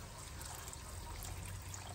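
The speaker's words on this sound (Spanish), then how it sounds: "vamos a agregar aproximadamente, va a ser como medio litro de agua" About half a litre of water poured into a cooking pot of beef ossobuco with bay leaves, a faint, steady trickle that runs on without a break.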